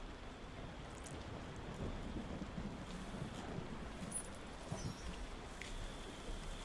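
Steady rain with wind over a swamp in the video game Tavern Keeper, a constant hissing wash with low rumbling underneath, moderately quiet and without talk.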